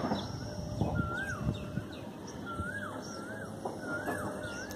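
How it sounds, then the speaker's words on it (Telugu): Peafowl calling around a hilltop temple at Mallanna Gutta near Hayathnagar, close to a pond: a series of rising, wailing calls repeat at a moderate distance over steady outdoor ambience, with other birds faintly present. "నెమలి కూడా సౌండ్లు వస్తున్నాయి మొత్తం."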